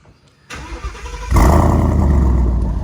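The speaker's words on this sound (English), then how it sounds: "once you get down here, you can hear the turbos" Twin-turbo Ford Mustang engine starting up close by, a burst of cranking settling into a loud, steady idle roar with turbo hiss above the rumble.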